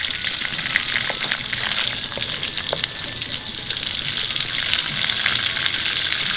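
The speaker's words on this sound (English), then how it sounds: "As soon as it gets hot, the ghee, you put the cumin seed first." Whole cumin seeds frying in hot ghee and butter, making a loud, dense, continuous crackling sizzle with scattered small pops, close up and with no speech.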